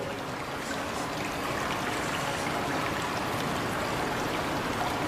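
Water sloshing and splashing from someone swimming at night runs as a steady, even wash of noise, close and unbroken, with no voices.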